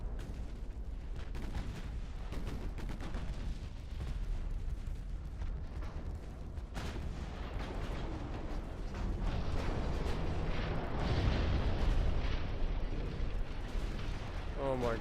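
Warships blowing up under artillery fire in Ultimate Admiral Dreadnoughts naval combat, a constant rumbling barrage of booms and crackling blasts swelling louder toward the end, with a voice talking over the battle.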